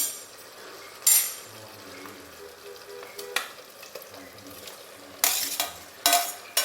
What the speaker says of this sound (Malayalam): ഇനി ഇതിലേക്ക് നമുക്ക് പൊരിച്ച് വെച്ച ചിക്കൻ ചേർക്കാം. ചിക്കൻ ചേർത്ത് കൊടുക്കാം.